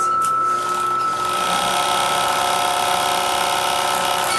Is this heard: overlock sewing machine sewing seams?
yes